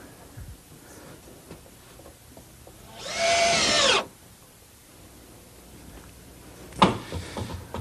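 A power drill drives a single screw into a wooden board on a dovecote, one loud whirring burst of about a second, followed later by a brief knock.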